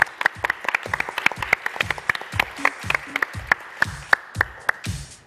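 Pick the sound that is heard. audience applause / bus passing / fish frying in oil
audience applause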